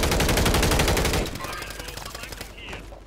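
Rapid automatic gunfire in Call of Duty MW3 Resurgence ranked play, a loud sustained burst of shots for about a second, then quieter scattered battle noise and a sharp sound at the very end.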